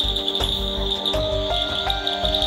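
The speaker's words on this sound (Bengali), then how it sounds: "বিভিন্ন রকম ঝিঝি পোকার ডাক" Several kinds of crickets chirp at night in a hill village near Darjeeling, a dense, continuous high trill with layered pulsing calls that is fairly loud and steady, with no speech.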